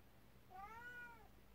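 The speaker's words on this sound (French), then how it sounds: "Non, ce chat n'est pas intelligent du tout." A cat gives a single clear, rising-then-falling meow indoors, fairly faint and alone, with no voices.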